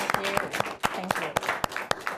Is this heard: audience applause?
yes